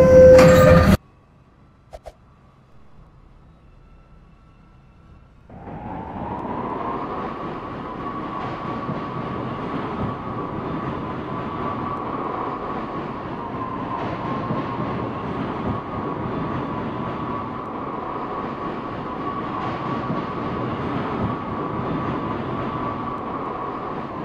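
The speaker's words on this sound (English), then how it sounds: "Stand clear of the closing doors." A subway train in a Roblox game styled after the New York MTA: a brief chime, then near-silence before the train starts off, its motor whine climbing and settling into a steady hum with rolling rumble for about twenty seconds.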